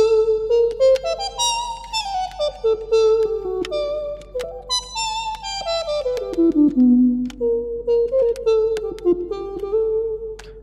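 A thick, fat lead synth patch from a TWV2000 soft synth, played through an EWI wind controller, runs through a legato melody with gliding bends, rich harmonics and a sustained bright tone, loud and solo with no talk.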